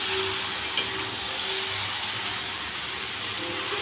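Spiced cabbage and fish head sizzle in a pan after water is added, giving a loud, continuous hiss that holds steady throughout with no talk.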